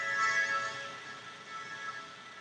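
A clean synth pad from the Presence instrument in Studio One, a soft sustained chord with steady tones that fades slightly after the opening, heard alone with no talk.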